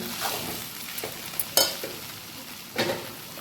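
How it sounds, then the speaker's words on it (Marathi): Potato bhaji is stirred in a pan, with faint sizzling under a few scrapes and clinks of a spoon, including one sharper knock near the middle and another scrape toward the end. "त्याच्यातून भाजी थोडंसं हलवून बघूया"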